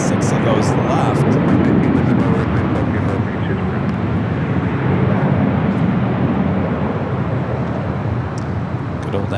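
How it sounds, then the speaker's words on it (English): A Spirit Airlines Airbus A320 in the old birthday cake livery arriving at Los Angeles airport from Dallas, Texas: a loud, steady jet engine roar at night that eases slightly over several seconds, with a voice speaking over it. "Followed by Spirit Airlines flight 1513 coming in from Dallas, Texas."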